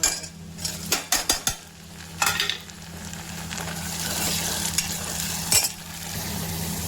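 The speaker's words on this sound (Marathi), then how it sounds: "आता टाकते टमाटर." Tomatoes are tipped into onion, garlic and cumin frying in oil, giving a few sharp clatters and thumps, then a rising steady sizzle with scraping stirs and a utensil knock, close by, no talking.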